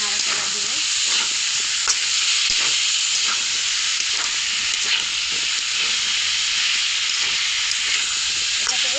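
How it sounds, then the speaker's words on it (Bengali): Taro stolons with dried fish frying in a pan, a steady loud sizzle and hiss with repeated scraping stirs throughout, no voices. "দিয়ে নাড়াচাড়া দিব।"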